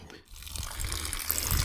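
Water pouring out of a Thetford toilet cassette through its drain bung, a short gurgling trickle that builds into a steadier flow.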